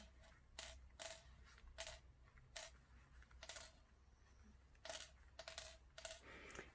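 Metal sewing pins being pulled from a freshly sewn seam in fabric for a bunny toy, a series of faint, sharp little clicks and ticks that come in irregular bursts over a quiet background hum.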